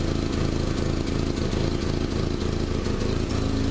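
A Volkswagen engine with an exhaust leak runs steadily close by, giving a continuous buzzy, pulsing drone with no change in pace and no talking.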